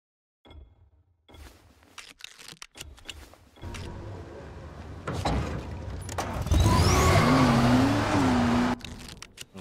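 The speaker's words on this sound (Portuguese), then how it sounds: "O carro tá meio mal." Vehicle in the zombie game Dying Light starts with sparse clunks and rattles, then the engine builds into a louder, rising drone with a brief whining sweep toward the end.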